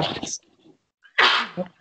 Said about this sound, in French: Non, c'est moi qui viens d'éternuer surtout.